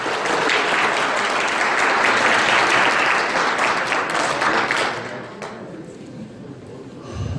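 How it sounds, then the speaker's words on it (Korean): An audience claps loudly to welcome a dance instructor at a golf year-end party, steady dense applause for about five seconds before thinning to a few scattered claps. "큰 박수로 맞아주시기 바랍니다"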